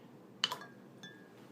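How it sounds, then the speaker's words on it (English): An ice cube drops into a glass of fresh water, giving one sharp glassy clink with a quick follow-up tap, then a fainter ring a moment later, close and alone against a quiet room. "Now I'm going to put my ice cube inside the freshwater glass."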